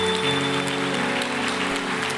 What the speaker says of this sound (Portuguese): Você pode aplaudir ao Senhor pela vida delas?